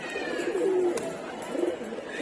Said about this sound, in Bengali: আর এই কয়টা কবুতর আছে